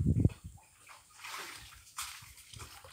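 Water pours into a container at a rural drinking-water source, with a splashing gush at the start and then a softer, uneven trickle and slosh.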